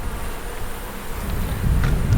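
Honey bees buzz around a hive frame during a honey harvest, a dense, close droning hum with individual bees whining past, swelling louder toward the end.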